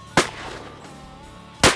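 Two sharp, loud shotgun blasts about one and a half seconds apart ring out during a teal duck hunt, each followed by a short outdoor echo.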